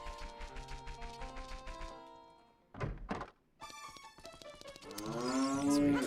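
Cows mooing in the video game Ocarina of Time: a short low moo in the middle, set between bright tonal game music and chime-like effects, fairly faint overall.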